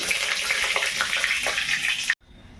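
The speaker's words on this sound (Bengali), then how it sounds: "তেল তো গরম হয়ে গেছে ভালোই, তাহলে ইলিশ মাছের ডিম ভাজা হচ্ছে" Hilsa fish roe frying in hot oil, a loud continuous close sizzle and crackle that cuts off abruptly near the end.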